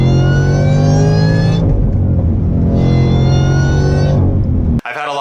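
A supercharged C7 Corvette Z06 revs in two sustained pulls, its engine tone rising and holding with a strong whine, then dropping away before a brief change in sound at the end.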